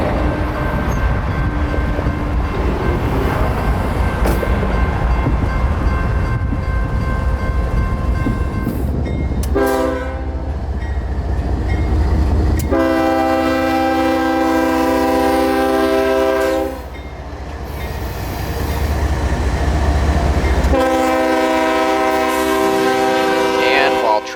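A mixed freight train with several locomotives passes a railroad crossing in Bradenton, Florida, horn blasting in long, loud harmonic bursts over a steady rumble of rolling cars, with faint talk beneath.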